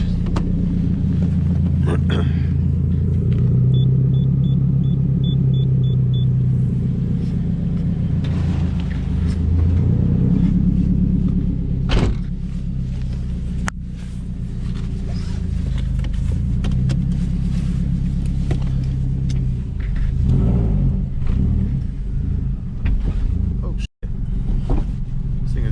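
A 2004 Subaru WRX STI with a newly installed clutch drives at night, a loud, continuous low engine rumble filling the cabin throughout, with a person talking over it.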